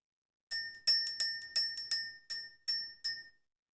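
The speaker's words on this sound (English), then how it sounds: "ring the bell, clear the energy" A small bell is struck in a quick run of about ten bright, ringing strikes. Each chime decays briefly before the next, and the strikes come clearly and alone against silence.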